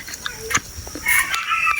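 Hill jungle fowl in forest undergrowth give short clucks followed by a loud, close rooster crow near the end, with a faint background hiss and no speech.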